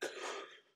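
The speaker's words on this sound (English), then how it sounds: "oh my god, someone cough." A single person coughs once, a sharp burst followed by a rough trailing exhale, close and clear with no talking.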